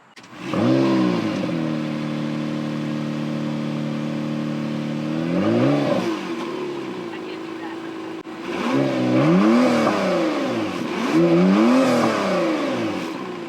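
A 2022 Acura NSX Type S twin-turbo engine revs repeatedly, rising and falling in pitch with a steady idle hum between bursts, loud and close.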